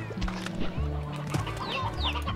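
Chickens in the video game Slime Rancher clucking, repeated short clucks and tonal calls in a busy rhythm, close and moderately loud.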